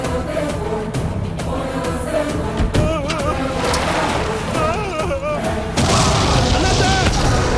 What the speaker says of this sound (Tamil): ராவத் சாருங்க வெடிச்சு போயிட்டார் சார்.